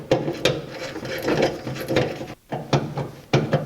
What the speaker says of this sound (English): I'll take a nut and carefully screw it on so we don't push it through.